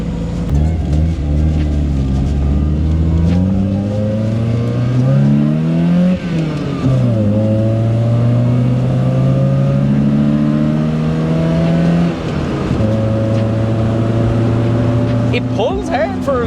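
A Toyota Altezza fitted with an SR20 engine accelerates hard on a test drive, its loud engine note climbing steadily through the revs, with gear changes breaking the pitch at two points before it pulls again.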